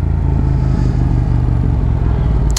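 A Yamaha R7 motorcycle with an aftermarket exhaust fitted with a removable baffle idles loudly and close, a deep, steady, throbbing exhaust rumble with a rapid pulsing beat and no voices.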